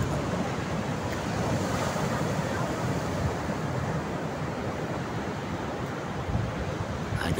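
Ocean surf at Tanjung Layar beach in Sawarna washes in a steady, loud roar, breaking waves mixed with wind buffeting the microphone throughout.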